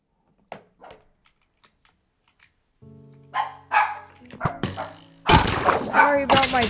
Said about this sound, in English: Sorry about my dog.